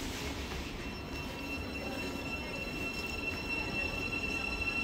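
A train pulls out of Potters Bar station on the East Coast Main Line, a steady, moderately distant rumble with a faint high wheel squeal running throughout.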